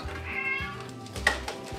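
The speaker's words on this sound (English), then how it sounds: "I love that little kitty." A cat meows in a few drawn-out calls indoors, close and fairly loud, with a brief sharper cry near the end and no talking.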